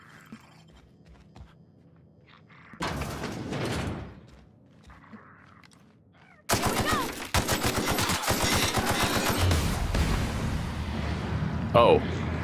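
Gunfire in The Outer Worlds comes as a burst of shots, then heavy rapid firing fills the second half, loud and dense against a quiet background.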